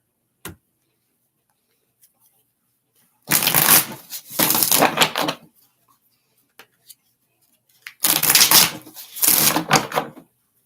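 Tarot cards shuffled by hand during a card reading, heard as two pairs of brisk riffling bursts, each about a second long, with short quiet gaps and a few soft taps between them; no talking.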